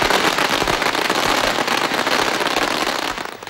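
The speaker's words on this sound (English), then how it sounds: "The sound of firecrackers marked the start of the Year of the Sheep." Dense, continuous crackling and popping of firecrackers bursting in rapid succession at Chinese Lunar New Year celebrations, loud and close throughout.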